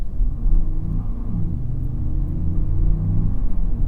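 A 2023 Lexus RX pulls away from a traffic light, its engine a steady low rumble that rises slightly as the transmission shifts from second to third, heard from inside the cabin with constant road noise.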